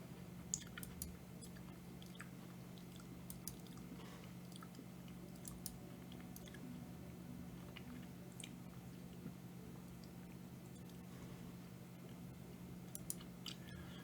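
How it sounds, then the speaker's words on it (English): Someone eating Cheetos: soft, close crunches and chewing clicks come in scattered bursts over a steady low hum, with no talking. "If you heard me crunching, I'm sorry."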